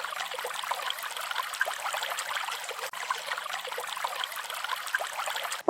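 A mountain stream trickles steadily close by, a continuous bright watery babble with a brief dip midway, no voices.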